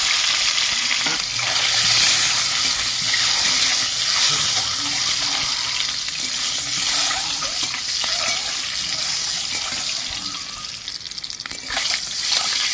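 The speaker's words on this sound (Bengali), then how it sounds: "সেদ্ধ করা ডিম আমি ভেজে নিচ্ছি নুন হলুদ মাখিয়ে দিয়েছি" Boiled eggs rubbed with salt and turmeric fry steadily in hot oil, giving a continuous close sizzle with occasional stirring scrapes and no talk.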